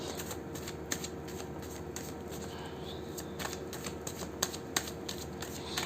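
Tarot cards being shuffled by hand, a soft, steady riffling with irregular sharper flicks, close and quiet.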